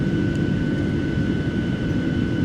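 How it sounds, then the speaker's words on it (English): Smaller airplanes at an airport produce a constant, fairly loud engine drone with a steady high whine running through it, and no voices. "Yeah, there are like smaller planes"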